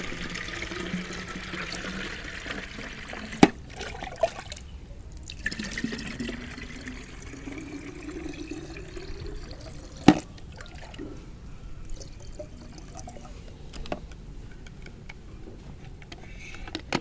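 Water poured from a container into a small orchid fertilizer mixture, a soft continuous trickle and splash with a few sharp drips and clinks, heard close and fairly quiet with no talking.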